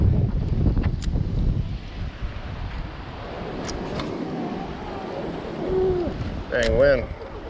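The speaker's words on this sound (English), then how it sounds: "Dang wind." Gusty wind buffets the microphone on a fishing pier by the ocean, a loud steady rush with brief voices and faint tonal sounds near the end.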